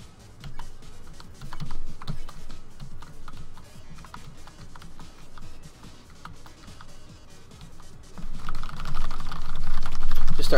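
Keys tapping continuously on a computer keyboard during an Undertale session, a dense run of quick clicks with a busier, louder burst near the end.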